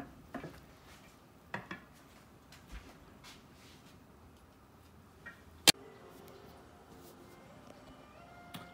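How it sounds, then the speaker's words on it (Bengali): A spoon stirs a tomato ketchup mixture in a cooking pot, with light scattered clinks and taps against the metal and one sharp louder knock midway over a quiet background. "এটা নেড়ে একটু নেড়ে মিক্স করে"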